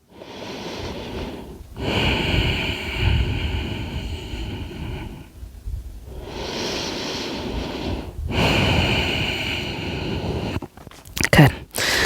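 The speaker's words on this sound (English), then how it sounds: "2 deep breaths." Slow, deep breaths during a prenatal yoga session, in three long breathy swells of inhale and exhale, close and steady, with brief quiet gaps between them.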